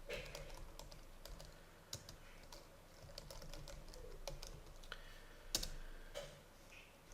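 Someone types on a computer keyboard while adding text to a PowerPoint presentation: quiet, irregular clicks and key taps come in short bursts, with one sharper click near the end and no voices.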